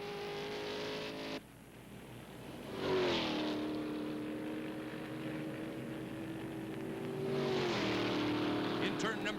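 1966 Can-Am race cars at Laguna Seca roar past in loud engine bursts, pitch climbing and falling as each car sweeps by, under continuous race commentary.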